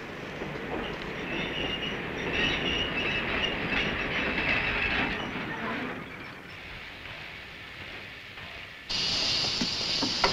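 A train in an Abbott and Costello film rumbles along the rails with rhythmic clatter and faint squeals, easing off before a sudden hissing burst near the end.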